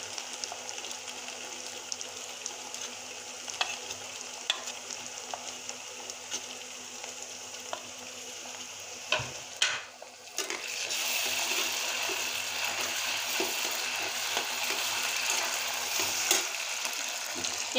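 Garlic, ginger and dry chili pastes frying in a pan, a soft continuous sizzle with scattered stirring clicks, then a sudden louder, brighter hiss as more paste hits the hot oil.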